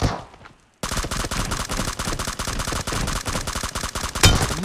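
Rapid automatic gunfire in the mobile shooter BGMI during an 8v8 team deathmatch, loud and continuous after a brief pause, with a sharper blast near the end.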